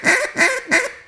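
A wooden duck call blown in a hiccup pattern: three loud, close, evenly spaced nasal quacks in quick succession, each rising then falling.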